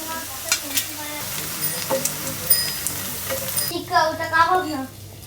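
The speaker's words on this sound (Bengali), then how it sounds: "একটু সময় করে ভাজা নিতে হবে জিনিসটা" Aloo tikka frying crisp in a pan gives a continuous sizzle with spatula scrapes and taps, close by; near the end a voice speaks over the frying.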